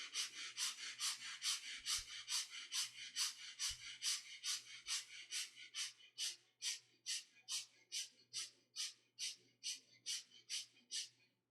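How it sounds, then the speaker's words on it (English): Rapid, short, gentle breaths pumped through the rib cage during a guided breathing exercise, about thirty even puffs in a steady quick rhythm, close and clear, with no talking. "Continue quick, short, gentle breathing."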